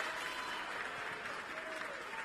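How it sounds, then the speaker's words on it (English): Birmingham City home fans applaud at a Women's Super League football match against Arsenal, a steady, broad wash of clapping from a stadium crowd that holds evenly throughout without breaks. "You can hear the applause that has a tinge of relief about it from the Birmingham City home fans."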